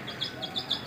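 Small birds chirping near a home in the evening, a series of faint, thin high tweets repeating over a steady background hum, with no talking.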